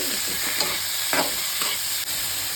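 Chopped onions and tomatoes frying in a pan for home-style butter chicken, giving a steady close sizzle with faint stirring scrapes.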